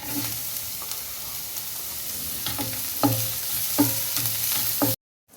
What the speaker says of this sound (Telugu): ఆయిల్ కొంచెం కాగనియాలి ఆనియన్స్ ముక్కలు వేసుకున్నాం